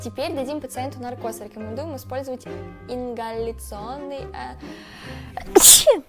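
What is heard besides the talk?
sneeze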